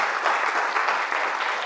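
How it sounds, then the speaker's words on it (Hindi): A seminar hall full of people claps loudly and steadily, a dense continuous applause with no voices over it. "पहले तो जोरदार तालियां"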